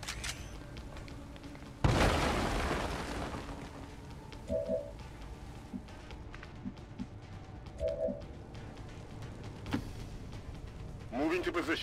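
A grenade goes off in XCOM 2 with one sudden loud boom that trails away, followed by quieter game sounds and scattered thuds.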